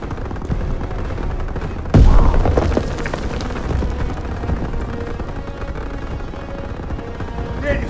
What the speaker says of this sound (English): Lobbing a grenade!